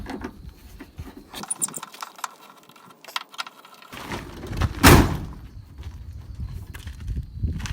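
Quiet shuffling and light knocks lead up to one sharp, solid slam of a 1955 Ford Customline car door shutting and latching, followed by soft handling noises.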